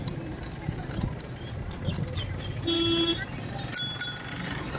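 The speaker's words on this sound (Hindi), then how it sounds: "इससे हॉर्न बजा" A short, bright honk of a bicycle horn sounds once midway, over faint outdoor street noise, followed by a couple of quick metallic rings.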